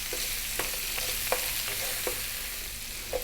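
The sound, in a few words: garlic and ginger frying in a pan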